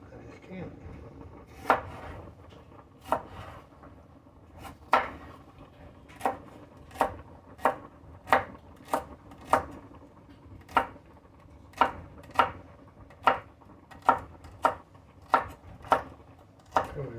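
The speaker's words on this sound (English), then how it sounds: "Chop that celery." A knife chops celery on a cutting board, sharp steady knocks spaced about a second apart, close and clear over a low kitchen background hum.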